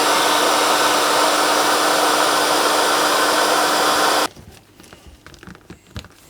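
A heat gun shrinks heat shrink tubing onto a handmade Screamin' Eagle Pro super tuner cable, giving a loud, steady blowing roar for about four seconds that cuts off sharply, followed by faint handling noises.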